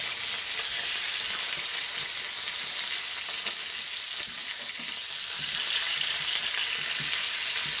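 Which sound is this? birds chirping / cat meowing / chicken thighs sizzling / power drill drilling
chicken thighs sizzling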